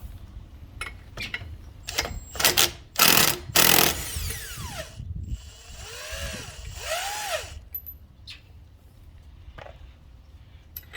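Power tool working a bolt loose on a Can-Am X3 housing, bursts of whirring and buzzing with rising and falling pitch sweeps, loud and close, then trailing off into quieter mechanical noise.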